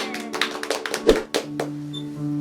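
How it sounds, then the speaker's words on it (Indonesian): Children clapping their hands at a kids' worship session, a quick irregular burst of close, sharp claps that fades into a lingering tonal hum. "Tepuk tangan."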